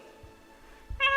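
A voice imitates a cat's meow during a children's Sunday school service, a brief, bright, nasal call near the end after a quiet pause.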